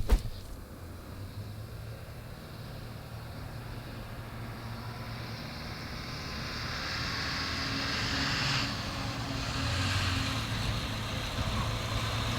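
A B-25 bomber lands on a runway without brakes after a hydraulic failure, its engine noise a steady distant drone that swells gradually louder toward the end.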